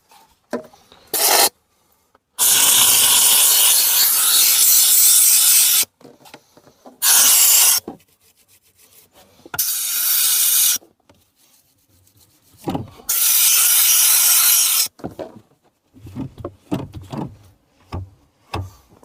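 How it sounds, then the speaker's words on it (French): A steam cleaner and small brush working over the pedal area of a car interior, giving loud bursts of hissing steam and rasping scrubbing in several separate spells broken by short quiet gaps. "on va venir par exemple faire tout ce qui va être pédalier, etc. Avec le nettoyeur vapeur"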